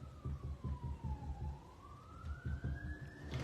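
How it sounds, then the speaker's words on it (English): An ambulance siren wails, slowly falling then climbing in pitch, heard at moderate distance over a low, rhythmic rumbling of nearby movement. "And an ambulance."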